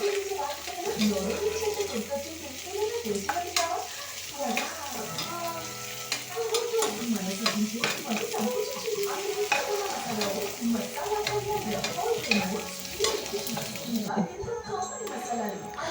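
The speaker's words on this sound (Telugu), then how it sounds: "టమోటా ముక్కలు తీసుకొని బాగా వేయించుకోవాలి" Tomato pieces with salt frying in oil for egg biryani, a steady sizzle with scraping stirring strokes, while someone talks over it throughout.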